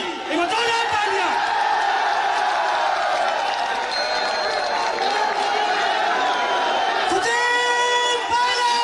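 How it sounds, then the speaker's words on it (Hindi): At a political rally in Jaipur, a large crowd cheers, whoops and claps loudly for Sachin Pilot, with voices shouting and chanting over a sustained roar. "एक जोरदार तालियां"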